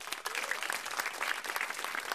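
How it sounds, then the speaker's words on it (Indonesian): Studio audience at a televised Indonesian stand-up comedy competition claps for the performers, a dense, steady burst of applause filling the room with no voices over it. "Tepuk tangan buat mereka boleh."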